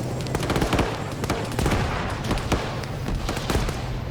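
Dense gunfire and explosions from a large Arma 3 battle fill the space, rapid cracks and bursts layered over rumbling booms, continuous and loud, with no pause.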